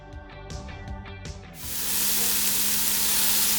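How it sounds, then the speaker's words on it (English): Cubed eggplant hits hot olive oil in a saucepan and bursts into a loud, steady sizzle that continues to the end, after a short quieter stretch with some tonal sound before it. "we're going to add all of our cubed eggplant, and we want to saute it until it's light golden brown"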